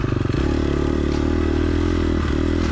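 Four-stroke dirt bike engine at a hare scramble, held at an unsteady throttle: a loud, close, continuous engine drone with small surges and dips, alone without talk.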